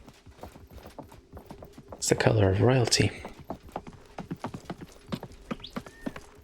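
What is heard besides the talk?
horse hooves clip-clopping in video game Realm Royale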